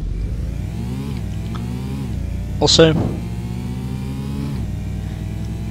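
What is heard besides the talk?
Porsche 944 engine revving in Need for Speed: Porsche 2000 video game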